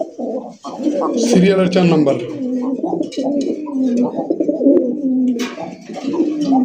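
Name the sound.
pigeons cooing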